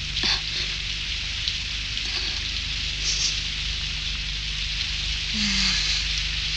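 Steady rain falls outside a house doorway, a dense, even hiss that carries on throughout, with faint knocks and a brief low tone partway through.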